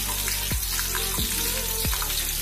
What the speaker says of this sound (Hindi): और अब डालूंगी इसमें लहसुन और ये जो लाल मिर्च है ये डालूंगी।